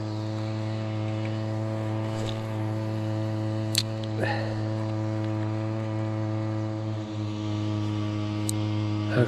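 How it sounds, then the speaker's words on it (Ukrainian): A steady droning hum of a water pump motor runs continuously, loud and close at a fishing spot, with a few faint clicks and knocks over it. "тут дуже шумно, там якийсь насос працює чи що воно таке"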